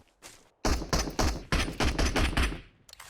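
Rapid bursts of automatic gunfire in the mobile battle-royale game PUBG Mobile on the Livik map, a close, loud string of about ten sharp shots after a brief lead-in.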